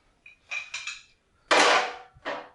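Barbell collar being unscrewed and removed from a power rack, heard as a few sharp metallic clanks and scrapes, close and isolated, with one louder ringing clatter near the end.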